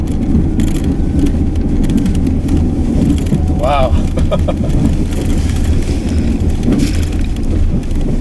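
A 2015 RAM 2500 Heavy Duty truck with its plow blade down drives into a snow pile. Its engine drones steadily and loudly under a rushing, hissing scrape, and one person briefly exclaims.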